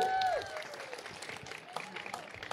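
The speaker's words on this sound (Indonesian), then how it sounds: "Tepuk tangan dulu Bapak Ibu-Ibu" Outdoor audience clapping at a farming-themed event held in a rice field, a scattered, moderate round of applause with a brief tonal sound at the start, fairly distant and thin.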